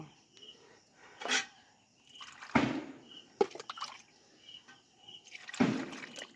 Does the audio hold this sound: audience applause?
no